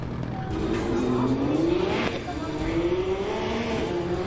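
A Nissan Patrol racing a Porsche: a steady engine roar with rising and falling pitch as the cars accelerate, heard at moderate distance under people talking throughout.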